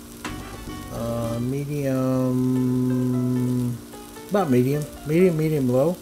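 Carrots, onions and scallions frying for chicken fried rice on a Blackstone 22-inch griddle at medium-low heat, heard as a steady, soft sizzle running beneath a person's continuous talking.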